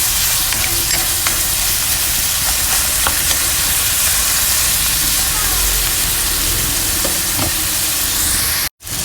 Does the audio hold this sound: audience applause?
no